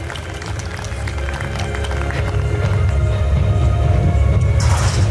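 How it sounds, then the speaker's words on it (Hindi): Audience at a student celebration event applauding as parents are called on stage. The dense clapping builds steadily and grows louder toward the end, with crowd noise underneath. "तो जोरदार तालियां होनी चाहिए इनके लिए."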